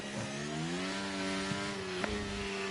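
Racing cars in the F1 23 video game run at the Chinese Grand Prix, a steady engine whine that shifts in pitch as cars go by, with a few faint clicks over it and no voices.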